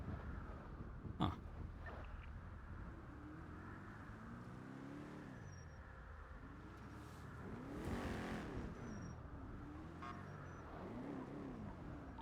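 A car in GTA NoPixel repeatedly accelerates and brakes hard, its engine rising and dipping in rhythmic surges, fairly faint and steady, with a sharp knock near the start.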